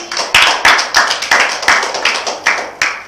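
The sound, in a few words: classroom clapping for a student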